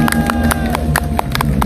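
Audience applause at an outdoor political rally, loud and close, with sharp individual claps ringing out over a steady hum and crowd noise.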